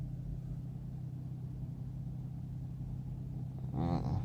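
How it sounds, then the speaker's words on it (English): A company truck's engine rumbles nearby at a low, steady idle. It is faint and even, with a short rise in sound near the end. "This is a company truck right here."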